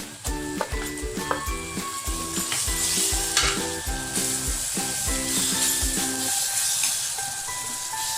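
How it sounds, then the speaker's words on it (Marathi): Tomato paste fries in oil with coriander powder and kitchen king masala for a brinjal and potato gravy, a steady loud sizzle under rhythmic spoon scraping against the pan, close up, with no voices. "टमाटे आपल्याला छान पुन्हा भाजून घ्यायचे आहे तेल सुटेपर्यंत।"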